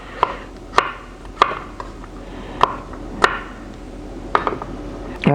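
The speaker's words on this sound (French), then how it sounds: "Cet ail, on va le couper grossièrement." A knife coarsely chopping peeled garlic cloves for a wild garlic pesto, about eight sharp, close blade strikes on a cutting board at an uneven pace, loud and without talk.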